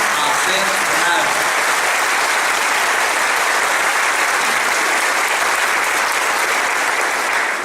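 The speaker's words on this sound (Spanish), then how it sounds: "Brindémosles un aplauso" An audience claps together at a Cursillo gathering in Pamplona, a dense, loud, unbroken wash of applause that carries steadily from start to finish.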